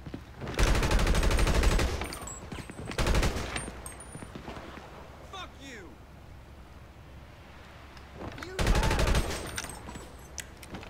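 Automatic weapon fire in GTA Online's Doomsday Heist, several loud sustained bursts separated by quieter stretches of ambient noise and scattered distant shots.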